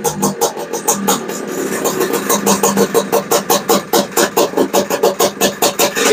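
A Honda Odyssey FL350 engine fitted with a Lectron carburetor runs close and loud, its rhythmic pulsing exhaust beats steady at first, then rising into faster, sharply defined bursts.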